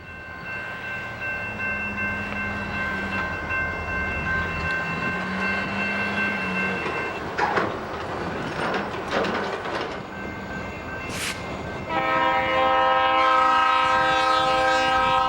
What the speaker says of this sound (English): The local Pan Am Railway's switcher at Danville Junction is moving out of the yard and taking a siding